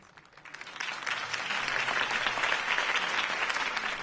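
Crowd applause swelling after a campaign speech in an animated Batman series, clapping building quickly from sparse to a dense, sustained ovation heard from a distance.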